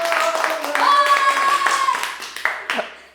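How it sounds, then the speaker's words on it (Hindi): Audience at a Hindi shayari poetry show claps, a short, uneven round of clapping mixed with a voice speaking over it, tapering into a few scattered claps. "सब लोग एक बार तेज से तालियां बजा दो यार"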